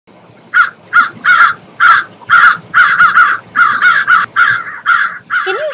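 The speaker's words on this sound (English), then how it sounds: "Can you hear the loud and harsh sound made by this bird?" A crow caws loudly and harshly in a rapid series of about a dozen close, strident squawks, one after another with brief gaps.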